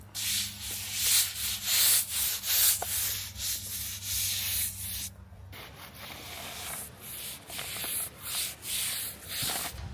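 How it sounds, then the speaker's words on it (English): Rhythmic scrubbing as antiquing agent is worked onto a stamped concrete slab, steady back-and-forth rasping strokes repeating close by with a low motor hum under the first half. "then we scrub it on the slab"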